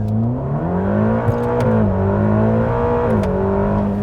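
A 2021 Ferrari Roma supercar engine revs steadily and loudly close by, its pitch climbing and dipping in smooth sweeps over about four seconds, with no talk.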